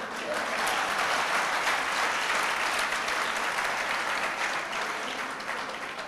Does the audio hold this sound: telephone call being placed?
no